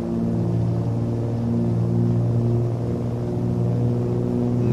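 Airliner jet engines spool at takeoff thrust in Microsoft Flight Simulator, a loud, steady, droning roar with strong low tonal hum that holds constant for the whole stretch, with no talking over it.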